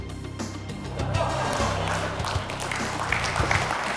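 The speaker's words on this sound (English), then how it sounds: "Give her a big round of applause." An audience breaks into applause, a dense wash of clapping that swells after about a second and holds steadily to the end, with a few louder claps standing out.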